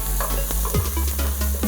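Garlic and ginger sizzle loudly in a hot pan while a utensil stirs constantly, giving steady frying hiss with repeated scraping strokes, close and with no talking.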